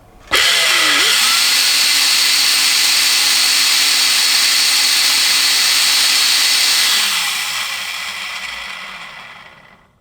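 A used Ryobi battery-powered wet and dry vacuum starts with a sudden jolt and runs with a loud, steady high-pitched whine, a bit harsh and dry, then winds down gradually as the motor is switched off.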